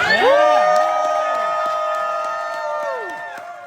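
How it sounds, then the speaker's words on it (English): A crowd at a crypto launch event in Barcelona cheers and shouts loudly at once, voices rising together and then gradually fading over a few seconds. "This deserves a louder cheer, guys."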